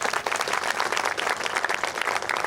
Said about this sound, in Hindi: उनका एक बार जोरदार तालियों से स्वागत हो जाए